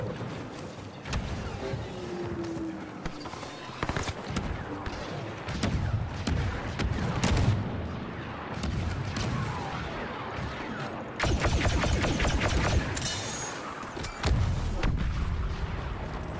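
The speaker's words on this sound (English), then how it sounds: "Grenade, make way!" Grenade explosions and gunfire from the video game Star Wars Battlefront II form a dense, loud battle din throughout, with heavy booming blasts and sharp bursts of shots that cluster around the middle and later stretches.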